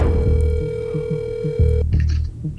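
A telephone call tone plays as a steady electronic beep for nearly two seconds, then stops, followed by faint higher electronic tones over a low background hum.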